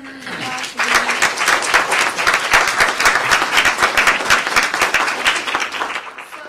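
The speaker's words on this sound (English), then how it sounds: "can we just give them a round of applause for being here?" A crowd at a university community forum on Black San Francisco breaks into loud, sustained applause for the panel, dense clapping that starts abruptly after a short spoken lead-in and holds steady before fading at the end.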